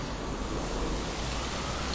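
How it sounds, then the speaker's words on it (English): Strong wind roars steadily as a broad, continuous rush buffeting the microphone, with no voices. "It's a very, very windy day in June."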